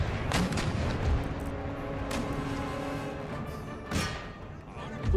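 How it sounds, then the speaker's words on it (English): Booming artillery round shot in a battle in Empire Total War, several heavy thumps and distant blasts over a continuous rumbling battlefield din. "All my artillery round shot the good artillery to the rear"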